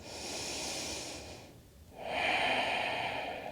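Deep breathing during a soft yoga flow: a long, airy exhale fades to near silence, then a fuller, louder breath swells back in, close and steady, with no talking.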